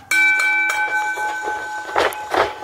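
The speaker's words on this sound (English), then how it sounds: "Ring that bell!" Wrestling ring bell at an unsanctioned match, a bright metallic clang with a ringing tone that sustains briefly, followed by a few more rapid strikes and crowd noise underneath.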